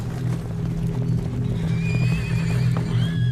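Horses neighing and whinnying loudly over a continuous rumble of hooves, a close stampede of riders with long rising whinnies in the second half and no talk.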